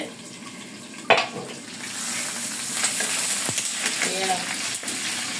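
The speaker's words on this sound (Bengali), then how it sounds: "এইভাবে আমি নানগুলো ভেজে নিতেছি" Naan bread frying in a pan beside chicken chaap, with a steady hiss of sizzling oil and an occasional clink of a utensil, close and continuous.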